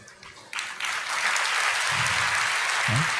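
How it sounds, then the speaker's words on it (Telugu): A church congregation breaks into applause during a sermon, quickly swelling and holding steady, dense clapping with a few faint voices underneath. "మీరెందుకు చప్పట్లు కొట్టారు?"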